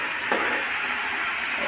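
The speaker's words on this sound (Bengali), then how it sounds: "অল্প একটু রসুন পেস্ট দিয়ে আমি এখন 10 মিনিট লাল করে ভেজে নেব।" Ginger and garlic paste frying in a pan, a steady close hiss and sizzle with one small clink of a utensil near the start and no talk.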